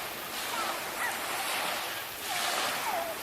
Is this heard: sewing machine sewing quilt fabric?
no